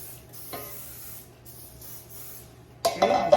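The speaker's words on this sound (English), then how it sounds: "So I spray the" Short hissing sprays of cooking spray puff out in a few brief bursts into a baking mold, close and fairly quiet, followed by a louder rustling clatter.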